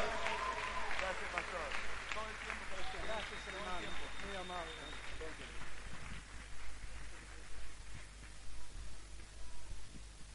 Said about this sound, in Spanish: ¿por qué no damos un fuerte aplauso al Señor?